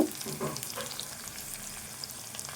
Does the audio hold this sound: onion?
yes